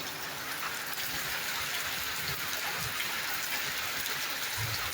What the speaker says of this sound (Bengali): কিন্তু বৃষ্টির দেখা মিলেছে।